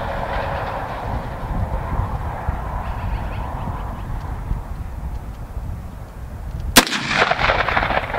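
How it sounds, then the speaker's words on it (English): A restored 1895 rifle with open sights is test-fired outdoors: a low, steady background rumble is cut near the end by one sudden, loud, sharp gunshot that rings out briefly. "we're gonna take a shot, see if we're anywhere close with these open sights yet"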